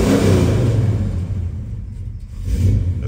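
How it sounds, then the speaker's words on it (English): A 1970 Chevrolet Chevelle with F41 suspension revs its engine nearby, a loud low rumble that swells, eases off in the middle, then climbs again toward the end. "Give it some gas."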